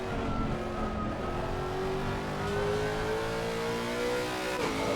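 Lexus RC F GT3 race car engine in Assetto Corsa Competizione at Spa or Hungaroring, a steady loud mid-pitched drone with rising revs that drop sharply near the end as the car brakes for a turn, no talking.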